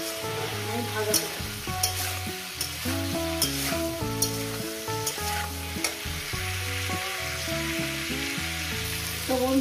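Cauliflower pieces fry with salt in a pan as part of a carp fish curry, giving a continuous loud sizzle with intermittent stirring clatters. A steady melodic background tune runs underneath throughout.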